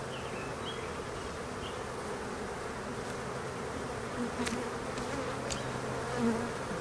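Honeybees drone around hive frames during a spring hive check, a dense continuous buzz close by, with a few individual bees passing louder near the end.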